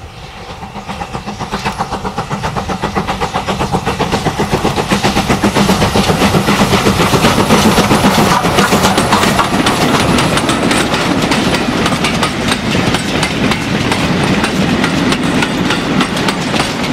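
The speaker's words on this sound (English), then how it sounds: "Climbing away from Woodhide with the early afternoon freight is U-Class 31806." A U-Class steam locomotive hauling a freight train rumbles close by with rapid rhythmic chuffing and clanking wheels, climbing, growing louder and staying loud as it labors past.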